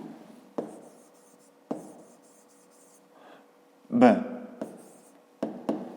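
Marker or chalk writing on a board in a maths lesson: sharp taps and short scratchy strokes arrive in separate bursts, with quiet gaps between them, close and clear, and no talk over them.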